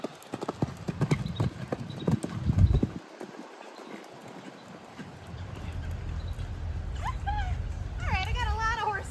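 Hooves of a young horse clip-clop steadily during grid work over jumps, crisp and close at first, then fading under wind and rider noise, with a few bird chirps near the end.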